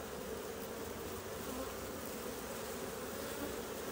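Honeybees hum in a dense, steady buzz while a beekeeper smokes the hive and gently brushes them off a frame, a close continuous drone with no talking.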